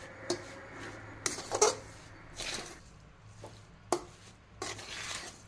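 Turmeric, lemon and garlic pickle being scooped into a glass bowl, a handful of faint, separate scrapes and clinks of a spoon against glass with quiet pauses between them.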